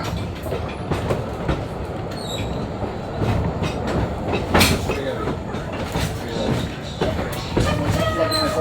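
Ride on Fireman's Side Car 100 train at Huckleberry Railroad during railfans weekend, with steady clickety-clack of wheels on track, rumbling and occasional metallic squeals, close and continuous, faint voices in the background.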